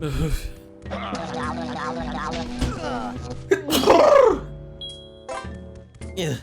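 A person sneezing during gameplay: a sharp, loud sneeze erupts in the middle, surrounded by voiced strained sounds and short talk.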